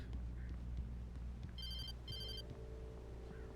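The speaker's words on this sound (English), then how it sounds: "My phone's ringing." An in-game telephone in the Alan Wake video game rings twice in short electronic bursts over a low ambient drone, moderately loud and without speech.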